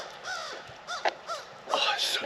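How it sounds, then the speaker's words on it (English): A crow or raven caws several times in short harsh calls during a morning walk through a cemetery, fairly clear against quiet outdoor background. "A crow, or I don't know, that could be a raven or a crow."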